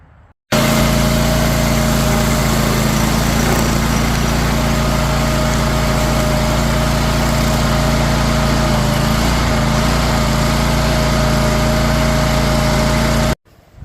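A stump grinder's engine runs steadily in a garden during a landscape renovation, a loud, continuous high-pitched drone with a constant tone that starts abruptly and cuts off near the end, with no voices.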